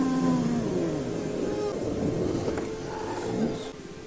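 Appa, the giant flying sky bison from Avatar The Last Airbender, lets out a deep, drawn-out roar with rumbling, growling texture and a couple of rising tonal moans, loud and close, continuing steadily for about four seconds with no talk over it.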